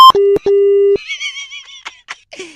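Phone line tone right after a prank call is hung up: a steady beep tone in two short bursts, then a longer one, loud and alone. Faint warbling chirps follow.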